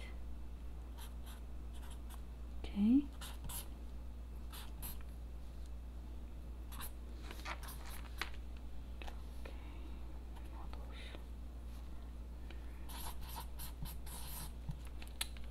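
Pencil writes on paper in short scratchy strokes during a teacher-style homework check, quiet and close against a steady low hum, with small marks and taps scattered across the stretch.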